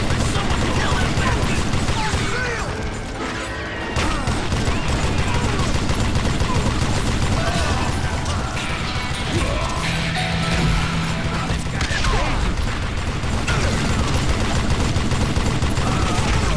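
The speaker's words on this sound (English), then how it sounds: "Let's keep shooting him." Sustained gunfire from the Wild West shooter Call of Juarez Gunslinger: loud, near, dense volleys of shots and crashing impacts running almost without pause, with a brief lull partway through.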